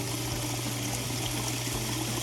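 Rinse water from a koi pond filter gushing out in a steady, loud, continuous flow with a low pump-like hum beneath it.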